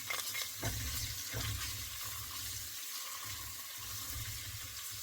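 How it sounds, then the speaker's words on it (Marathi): Chopped garlic fries in a pan of ghee and oil, a soft continuous sizzle with occasional stirring scrapes and a faint running-water hiss in a quiet home kitchen. "सो आता आपण हा गार्लिक घातला आहे आणि हा आता फ्राय करायचा आहे चांगला"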